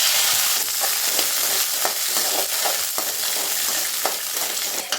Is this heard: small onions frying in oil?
yes